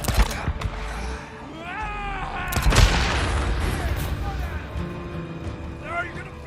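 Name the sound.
gunfire in the video game Days Gone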